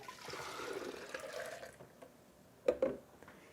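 Sprouted almond milk poured from a blender jar, a steady close liquid stream fading out, followed by a couple of brief splashy knocks.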